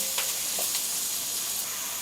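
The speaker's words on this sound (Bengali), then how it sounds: "পেঁয়াজটাকে হালকা একটু আমি ব্রাউন করে ভেজে নিলাম।" Chopped onions fry in spices in a pan for a beef liver bhuna, giving a steady close sizzle with a few sharp crackles and pops and no voices.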